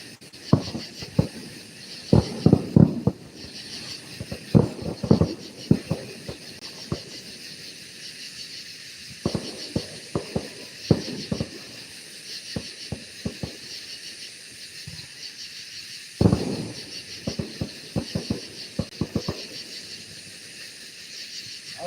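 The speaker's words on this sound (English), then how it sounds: "That's a lot of fireworks for one person." A city fireworks display's grand finale in Greenville, heard as many sharp, irregular bursts in rapid clusters over a constant high insect-like chirring backdrop, with brief gaps between volleys.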